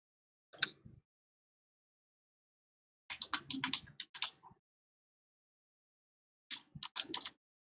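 Three short bursts of keypresses as a PIN code is entered on a Fibaro Z-Wave door lock keypad, quiet clicks separated by silence.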